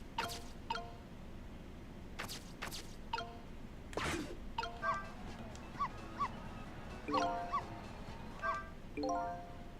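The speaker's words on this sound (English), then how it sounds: "Should I keep barking?" A dog barking in the Ghost Trick video game, with a string of short sharp barks and yips, some in quick pairs, alongside whimpers and small chirping game sounds, moderately close.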